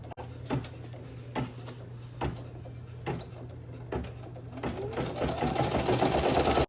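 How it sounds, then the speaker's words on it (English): Embroidery machine running a tack-down stitch on blue fabric and felt for an applique patch, steady close mechanical hum with rhythmic thumps about once a second, rising to a faster whirring pattern near the end. "the next step is to do that tap down stitch. It's gonna tap down the blue fabric and the felt so that it will not move when it start embroidering."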